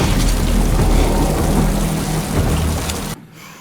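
Heavy rain pours down steadily during a night storm in The Last of Us TV series, a dense, loud hiss with low rumbling beneath that cuts off abruptly near the end.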